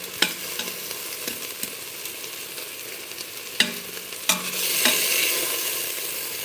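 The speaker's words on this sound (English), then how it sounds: "And I want to make sure it's seared on all sides." Beef stew meat searing in a hot pan gives a steady close sizzle, broken by a few sharp clacks as pieces are turned, and the frying swells louder near the end.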